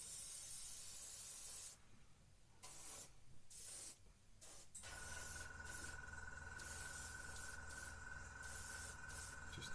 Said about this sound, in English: So you hold the airbrush right back and then a little filter over the wing.